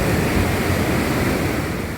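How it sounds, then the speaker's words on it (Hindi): A steady, loud roar of flood water rushing under a bridge during heavy rain in Azad Kashmir, broad and continuous with no pauses and no voices. "इन पुलों के नीचे से बहने वाला ये खतरनाक पानी आगे जाकर मिल जाता है।"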